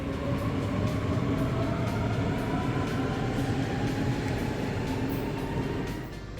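Steady rumble of a train in motion at Frankfurt am Main Airport Station, a dense rolling roar with faint rhythmic clicks from the rails, heard from inside the carriage.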